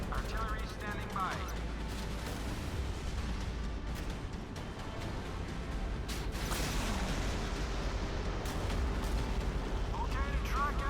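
Artillery fire in the Modern Warships naval combat video game, with dense booming blasts and a roaring battle din running continuously at high level, while occasional whistling shells and a synthetic radio voice sound over it.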